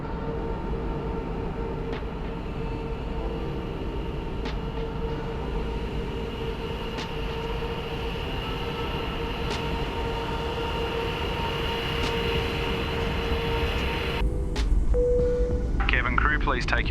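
Boeing 737 MAX jet taxiing in a flight simulator, a steady broadband engine rumble with a constant whine that holds evenly throughout, rising slightly with a brief louder burst of added noise near the end.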